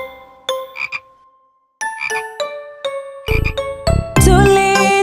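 Cartoonish croaks of green speckled frogs in a children's song, a series of short bright ribbits in quick clusters, close and loud, ending in a sustained tinkling chime-like flourish.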